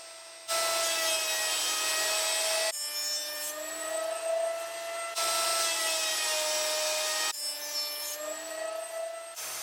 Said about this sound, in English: I brought it over to the thickness planer and planed the opposite face